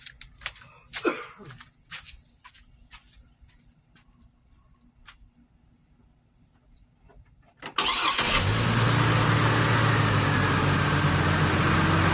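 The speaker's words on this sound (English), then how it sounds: "So I'm going to start the engine and turn the air conditioning system on." Quiet clicks and faint rustling give way to a 2004–2009 GMC Envoy or Chevrolet Trailblazer engine cranking and catching, then idling steadily and loudly until the end.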